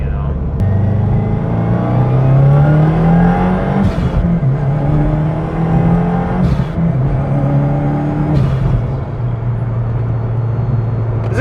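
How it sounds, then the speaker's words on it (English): Subaru WRX, 2022 or newer, fitted with a REMARK sports touring cat-back exhaust, revving up and down in several rising sweeps; a loud, steady engine tone close to the microphone with no talking over it. "exhaust definitely wakes up in the higher RPM range, but it's nothing too crazy"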